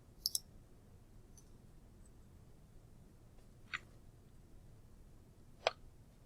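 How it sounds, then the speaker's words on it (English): Sharp, quiet mouse clicks on a software button: a quick double click, then two more isolated clicks spaced a couple of seconds apart over a faint room hiss, with no talking. "now we can click the New button to create a new canvas"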